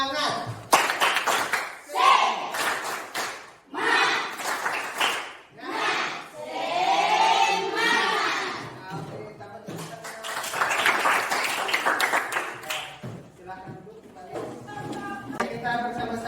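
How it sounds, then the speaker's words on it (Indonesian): A classroom of students performs a rhythmic spirit clap, bursts of sharp hand claps in patterned groups alternating with voices calling and chanting between them. "Ya, tepuk semangat"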